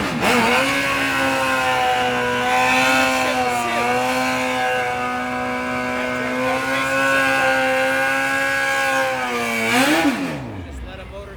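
A race car engine at Xtreme Raceway Park holds a high, steady rev for several seconds with slight pitch wavers, then sweeps sharply down as it cuts off, loud and near, with voices faintly underneath.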